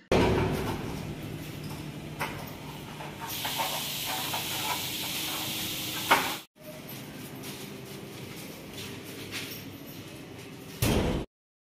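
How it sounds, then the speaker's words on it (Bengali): Potato slices frying in a pan for aloo bhaja, a continuous hissing sizzle close by, with a louder surge partway through, a brief cutoff, then the steady sizzle resuming until an abrupt end. "এভাবে আমি আলু ভাজতে শুরু করে দিয়েছি"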